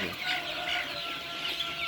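Several chickens cluck softly and scratch about on the ground beneath a roost perch, a steady murmur of low bird chatter with no talking.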